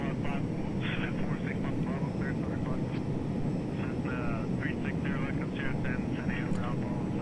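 Steady, droning jet-engine whine of an Embraer Phenom 100 climbing in a flight simulator game, continuous for the whole stretch while someone talks over it.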